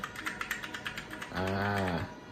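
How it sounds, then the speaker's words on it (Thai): Keys click in an even, quick rhythm while typing on a Tsunami MK68-Pro 60% mechanical keyboard, close and moderately loud, then give way to a brief droning hum. "พิมพ์ให้ทุกคนได้ดูนะครับ ว่าเสียงมันจะเป็นยังไงนะฮะ"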